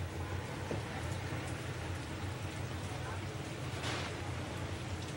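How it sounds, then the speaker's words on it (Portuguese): Steady rain falls at night in Thailand, a dense, even hiss that carries on without a break for several seconds, with no voices over it. "Está chovendo um pouco menos do que meia hora atrás, mas continua chovendo."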